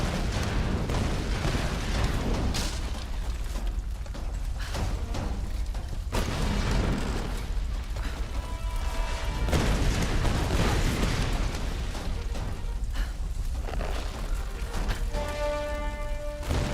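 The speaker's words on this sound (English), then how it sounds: "Like that should have, like the explosion of that would be way bigger." A crate of dynamite blows up in the Tomb Raider video game, heard as a long, loud, dense rumbling blast with crackling bursts throughout, steady and sustained, with no voices.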